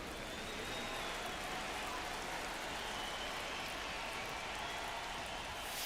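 Steady rain pours over the ballpark in MLB The Show 25, a dense, even hiss of drops on the field that holds constant and fills the whole stretch with no voices over it.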